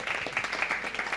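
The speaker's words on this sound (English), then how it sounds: "maybe we can clap for that one" Audience applause at an angel investor and founder event, a short patch of steady, moderately soft clapping from a room of people with no other sound.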